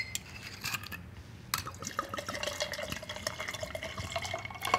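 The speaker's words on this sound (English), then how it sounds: "and then pour our vodka in." Vodka pours into a cocktail glass, a faint liquid trickle and splash with small clinks of glass or ice, close and quiet.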